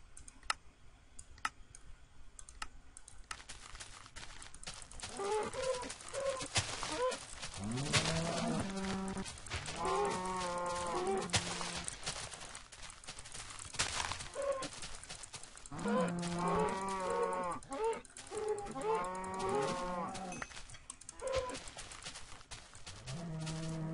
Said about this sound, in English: I think I just found the land of cows.